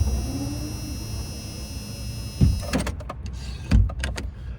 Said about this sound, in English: I'm gonna roll up these windows real quick because it's getting cold.